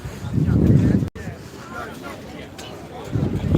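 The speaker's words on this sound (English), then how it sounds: "that's how windy it is" Strong wind gusts batter the microphone outdoors at a vintage toy and action figure show, strong enough to threaten a tent, giving a heavy low rumble that surges, drops out briefly and returns, with voices nearby.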